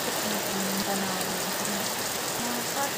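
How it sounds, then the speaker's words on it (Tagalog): Heavy rain drums steadily on a house roof, a dense continuous hiss and patter with no breaks, close and fairly loud. "Nakakatakot na naman ulan sa bubong ng bahay."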